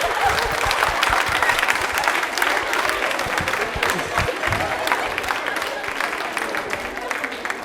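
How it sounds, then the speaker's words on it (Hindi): A studio audience at a Women's Day quiz show applauds loudly, a dense and continuous burst of clapping from a crowd over several seconds, with some voices mixed in. "ताली एक बार जोरदार हो जाए"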